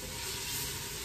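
Liquid poured into a hot pan of beef tip stew with caramelized onions and drippings, giving a loud, steady, dense sizzle that fills the whole moment without a break.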